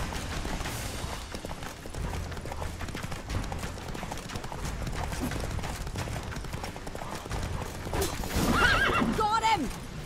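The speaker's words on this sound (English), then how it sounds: "Come on, Roach" In The Witcher 3, a horse gallops with steady hoofbeats over ongoing game sounds, and its neighing rises clearly near the end.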